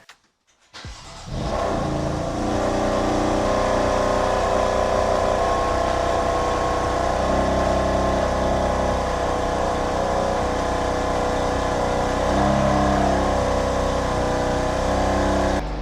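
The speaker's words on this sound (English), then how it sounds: "So let's go ahead and start this bad boy up." A rebuilt, previously wrecked BMW M4 engine cranks and roars to life, then settles into a loud, steady rumbling idle with a couple of mild revs, close to the microphone.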